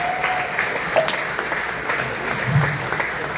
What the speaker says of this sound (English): I just want to give a round of applause for Representative Troxler.